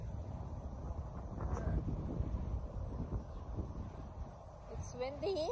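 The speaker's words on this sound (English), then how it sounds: "It's windy." Wind buffets the microphone beside a river on an afternoon in downtown Cambridge, Ontario, with steady low rumbling gusts and a brief voice near the end.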